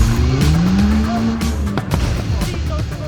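A car engine revs loudly nearby at a car meet, pitch rising with tire squeal and crackling bursts over a busy street background.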